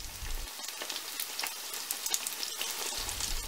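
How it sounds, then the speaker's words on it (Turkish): Yeast dough for pişi flatbread sizzles and crackles in hot oil, a dense steady frying hiss with scattered pops, close up and continuous. "Öncelikle bir tarafını kızartıyoruz."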